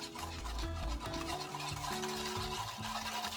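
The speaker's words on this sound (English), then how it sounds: "And we're gonna whisk it around." A honey garlic glaze with garlic powder whisked in a bowl, steady scraping and rubbing strokes, close and continuous, with a low hum and faint background tones.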